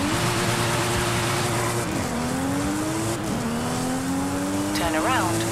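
A race car in Forza Horizon 5 holds a loud, continuous engine drone with rising gear pitches, shifting twice, then a brief tire squeal near the end, all close and steady.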